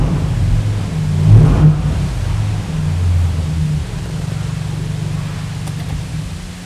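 A 2021 RAM TRX pickup truck engine rumbles loud and steady nearby, with a brief swell partway through before settling back to a deep, continuous idle drone.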